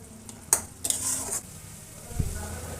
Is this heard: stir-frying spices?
yes